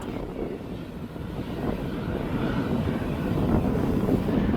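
An Atlas Boeing 747 cargo jet sits with its engines started after pushback at East Midlands Airport, giving a steady broad roar that slowly swells, heard from a distance through some wind noise.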